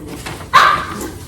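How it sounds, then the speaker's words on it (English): One sharp bark from a playful dog rings out midway, with quieter indoor background noise before and after it. "You can hear the dogs in the background playing."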